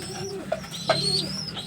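Pigeons coo softly nearby against a faint background hum. A couple of short, higher calls break through, and no one is speaking.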